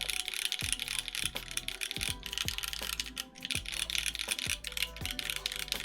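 Typing on a Manta mechanical keyboard, a dense stream of close, quick clacky keystrokes with a brief lull midway, steady and unaccompanied by speech, set against faint background music.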